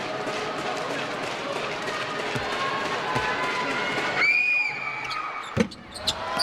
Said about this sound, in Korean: 서울 삼성 팬들, 여성 팬들의 고함 소리 놀라서 안 불한 건 아니죠?